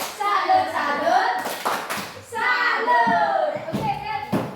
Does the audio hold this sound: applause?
yes